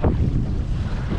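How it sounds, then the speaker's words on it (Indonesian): Strong wind roars steadily across the open sea around an inflatable fishing boat, buffeting the microphone with loud, continuous low rumble, while water washes against the hull underneath, with no voices. "Rasa ni angin."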